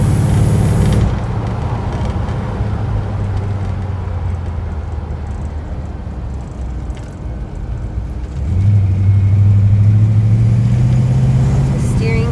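A 1954 Chevrolet Del Ray engine hums steadily, then swells louder as it picks up speed near the end, with constant road noise throughout and no talking.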